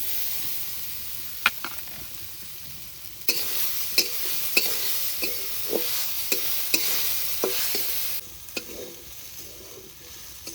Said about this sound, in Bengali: নারকেল হালকা করে একটু ভেজে নিয়েছি